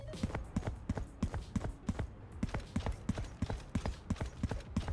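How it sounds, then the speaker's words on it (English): Agent footsteps from the video game Valorant, a fast run of crisp, evenly paced steps, loud and close, continuing throughout with nothing else over them. "Every agent has their own footstep sound."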